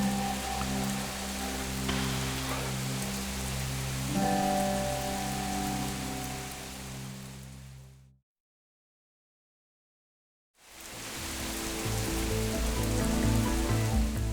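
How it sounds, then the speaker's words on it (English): Heavy rain pours steadily onto surfaces outdoors on a farm in Oxfordshire, a dense continuous hiss that cuts out abruptly to silence for a couple of seconds before resuming. "the heavens have opened"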